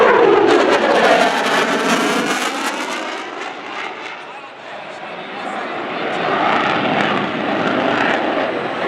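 Loud roar of a US Navy F/A-18F Super Hornet jet during an airshow demonstration at the New York Air Show, sweeping past with a rising-then-fading howl and steady rumble across nearly nine seconds.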